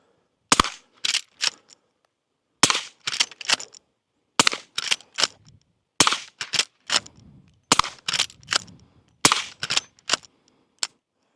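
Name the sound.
gunshots from suppressed Derya RAN lever-action rifle, .357/.38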